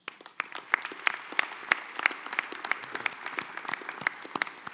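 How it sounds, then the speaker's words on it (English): Applause from attendees at the U.S. Soccer Annual General Meeting's National Council session, a moderate crowd clapping with crisp, distinct claps that carry on steadily throughout. "I'd like you to give them a big round of applause"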